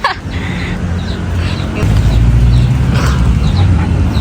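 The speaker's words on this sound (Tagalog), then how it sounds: "Meron din sila ditong mga alagang hayop katulad ng pabo. Tapos meron din ditong mga manok or native chicken." Turkeys and native chickens clucking and gobbling close by in a botanical garden in Las Piñas, a busy mix of birds calling over one another.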